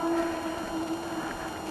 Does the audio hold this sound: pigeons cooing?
no